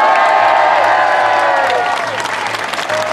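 A large outdoor crowd claps loudly and continuously at a climate march in Lille, dense applause with scattered whoops and cheers, filling the whole stretch before thinning slightly toward the end.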